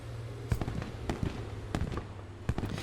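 Grenade blasts in the WWII shooter Post Scriptum, a rapid series of sharp, booming bangs crackling like fireworks, several explosions in under three seconds at fairly close range with no talk.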